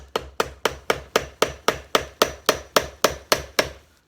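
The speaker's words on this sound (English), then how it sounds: "right now I'm just gonna take a chisel and see the line" A chisel tapped along the seam to split apart a mold for a pet urn rock, about fifteen evenly spaced sharp knocks in a steady rhythm, close and clear with no voices.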